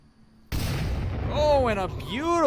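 A grenade explodes in the VR shooter Onward during a competitive match, a sudden loud broadband blast that holds as a sustained rumble, with sweeping tonal effects rising and falling after it and faint commentary-like voices mixed in.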